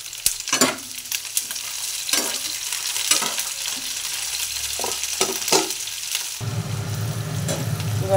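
Chopped onions sizzle in a pan while a spoon scrapes and stirs in repeated sharp strokes, close and loud, with a hotter, steadier frying hiss near the end.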